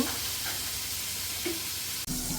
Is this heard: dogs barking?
no